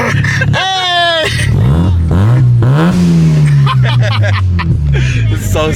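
A JDM right-hand-drive project car revs loudly and accelerates hard up close, the engine note climbing through repeated pulls while an excited voice talks and shouts over it.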